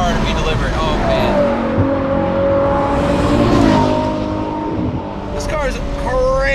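A 2021 Ferrari 812 GTS, a front-engined V12 convertible, revs hard at high rpm, a loud sustained engine howl with rising harmonic sweeps near the end, running steadily under talk inside the car.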